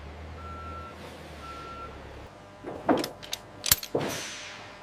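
A truck being loaded at an artificial Christmas tree factory sounds two evenly spaced reversing beeps over a low engine rumble, followed by several sharp metallic clanks and bangs nearby.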